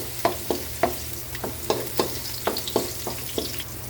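Garlic sautés in a pan for Filipino mung bean stew (ginisang monggo), with a spatula scraping and stirring in a quick, regular rhythm over a low, steady sizzle, close up and without talk.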